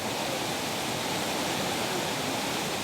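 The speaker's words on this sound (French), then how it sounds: "il y a une belle cascade, vous avez vu?" Underground waterfall inside a vast mountain cave, a steady, dense roar of falling water filling the space evenly from start to finish, with no voices over it.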